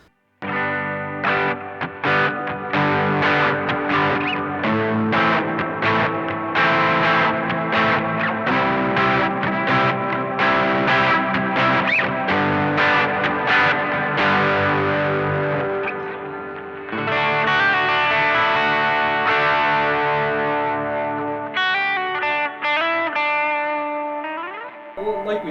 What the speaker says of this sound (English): So we'll do a reverb into overdrive first, just to kind of give you an idea what that sounds like.